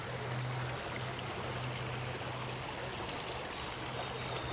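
Water flowing steadily in an outdoor stream or body of water, a continuous broadband rush that holds an even level throughout with no voices.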